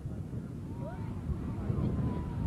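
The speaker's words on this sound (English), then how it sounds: "somewhat windy day, but not enough wind to really create too much of a problem out there" Steady wind buffets the microphone with a low, continuous rumble throughout at an outdoor youth soccer match at a Huntington Beach, California high school, a faint whistling tone drifting through above it.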